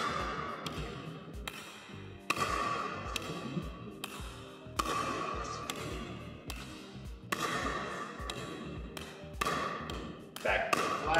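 A pickleball paddle strikes the ball with flat and spin swings, giving a steady series of crisp, close taps at regular intervals while a coach talks between the hits.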